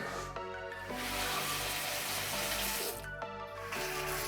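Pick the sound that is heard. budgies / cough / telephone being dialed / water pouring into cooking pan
water pouring into cooking pan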